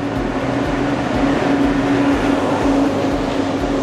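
A train at a station in Laos, a steady low rumble and hum of rolling stock close by, continuous and fairly loud with no talk.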